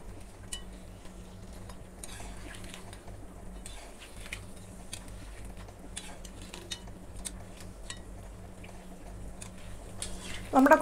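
Kuzhalappam, a Kerala snack, fries quietly in hot oil as a faint, steady bubbling hiss with scattered soft ticks and pops, and a clatter near the end.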